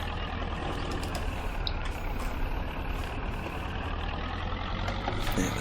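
A tractor reversing in the video game Farming Simulator 22, its engine giving a steady droning rumble with faint higher mechanical whine and brief clicks, constant and close throughout.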